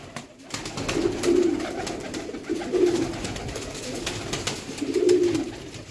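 Pigeons cooing nearby, three low rolling coos spaced a couple of seconds apart over a busy background with faint clatter.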